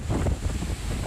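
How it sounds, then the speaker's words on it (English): Strong Hurricane Laura wind gusts roar at night in Madison, a loud, rough, continuous rumble buffeting the microphone with no talking. "Yeah, wind's still going pretty good, Eric"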